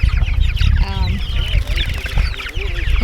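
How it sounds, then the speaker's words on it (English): Turkeys on a farm cluck and gobble in a busy, close chorus among other poultry, with overlapping calls throughout and some outdoor background noise. "The turkeys are getting big and looking good."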